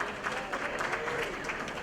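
Brief applause from a crowd at a gala fundraising dinner, a moderate wash of clapping with some voices mixed in.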